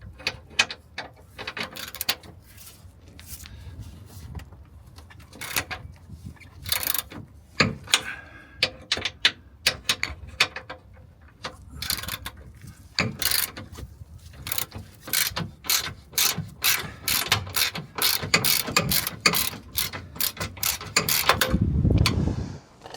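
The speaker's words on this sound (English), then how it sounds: "I'll put a ratchet on it." A hand ratchet clicks rapidly and unevenly while turning out an 18mm suspension arm bolt on a Fiat Panda, the bursts of ratcheting growing faster and denser toward the end, close up with no talk.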